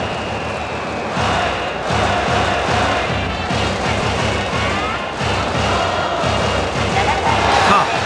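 In the PS3 baseball game Pro Yakyu Spirits 2011, set at Mazda Stadium for Hiroshima versus Yakult, a stadium crowd cheers with steady rhythmic drumming and chanting, while commentators talk over it.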